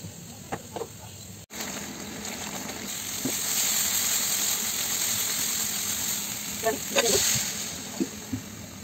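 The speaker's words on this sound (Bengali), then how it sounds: "2 থেকে 3 মিনিট ভালো করে কষিয়ে নিব, যাতে তেলটা ছেড়ে দেয়" Mustard paste for a Bengali katla fish curry frying in oil, a moderate sizzle that swells in the middle, with brief clinks and soft speech around it.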